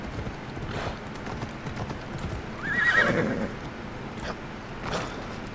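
Horse hooves clip-clop steadily through the Assassin's Creed Odyssey game world, and a whinny rises in the middle of the passage, all over a dense ambient game background with no talking.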